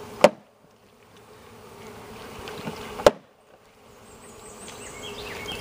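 Quiet, steady buzzing of honey bees throughout, broken by two sharp knocks, with higher-pitched wingbeats swelling near the end.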